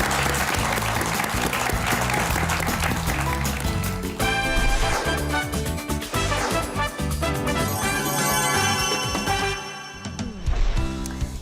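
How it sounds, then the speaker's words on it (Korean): Applause from a Korean lecture audience after a talk by a company CEO, with steady clapping mixed with stage music and a brief voice, ending abruptly. "이런 이야기 해주신 우리 양 대표님께 큰 박수 부탁드립니다"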